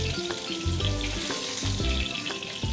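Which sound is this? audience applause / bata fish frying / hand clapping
bata fish frying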